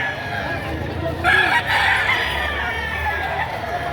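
A rooster crows loudly once over a constant murmur of crowd noise and clucking fowl at a poultry market in Padre Garcia, Batangas.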